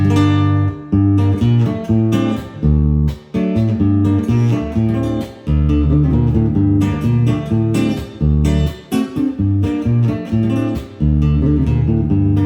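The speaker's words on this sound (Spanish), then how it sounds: "Esta guitarra suena así con otras músicas." An acoustic guitar is strummed and picked in a lively rhythm with bass runs, played loud and close with brief pauses between phrases.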